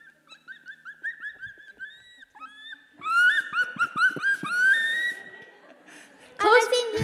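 A child imitates a seagull call with the voice, producing a series of high, squealing cries that rise in intensity, with a louder burst near the end in a festival setting.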